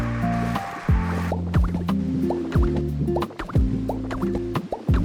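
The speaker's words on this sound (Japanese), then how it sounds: "貯水は連続吸い込みができます。" Water is repeatedly sucked up to drain the sea in a Pokémon building game while a seaside port town is rebuilt. It comes as a series of loud, splashy gulping bursts in an irregular rhythm over tonal game chimes.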